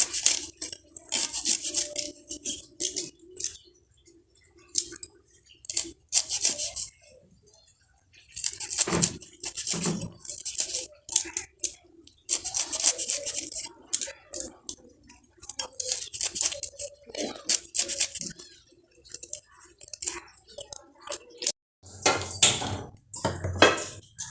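Leafy winter greens are cut for frying, with irregular runs of crisp knife chops and scraping, some quick and rhythmic, some sparse, close and moderately loud, with a heavier thud late on.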